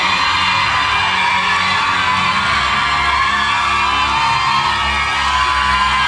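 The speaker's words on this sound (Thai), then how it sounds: "เสียงกองเชียร์ หนักมากนะครับ" A large crowd of fans at an award ceremony cheers, whoops and yells continuously, a loud, dense roar with no pauses throughout.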